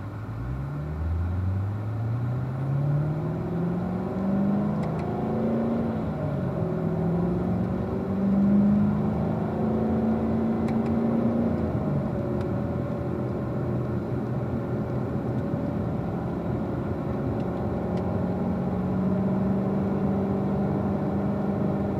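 A Corvette rolls slowly around a racetrack, its engine a steady low rumble that climbs gently in pitch and then holds an even drone, heard from inside the car with no talk.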